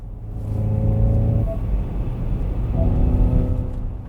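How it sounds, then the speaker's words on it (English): A steady low synthetic propulsion hum from a slow-moving 2025 Ford Mustang Mach-E Rally electric car, with faint tonal whines rising briefly, continuous and fairly quiet with no talking. "How about this propulsion sound?"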